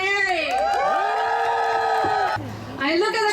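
Crowd at an International Women's Day rally in Vancouver cheering and whooping for the next speaker, a loud sustained roar with shouts, briefly dipping before swelling again.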